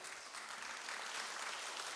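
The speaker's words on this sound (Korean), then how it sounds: "큰 박수 부탁드리겠습니다" Applause from an audience at a memorial lecture on the Yeosu-Suncheon uprising, a steady wash of many hands clapping at moderate distance for a couple of seconds, with no voices over it.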